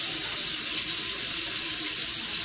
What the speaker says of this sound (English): I'm going to get my hot water in going. Make sure my water is lukewarm.